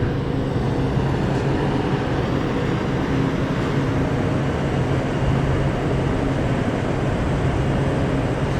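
A train sits at a commuter rail station between White Plains, Stamford and Croton, giving off a steady, loud, low rumble of idling engine and ventilation that continues without a break.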